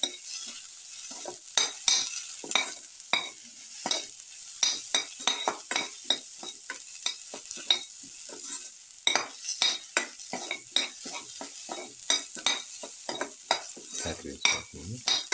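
Fish brindleberry stew is sautéed in a pan, a constant sizzle beneath frequent scraping and clinking of a metal spoon stirring against the pan, close and busy throughout.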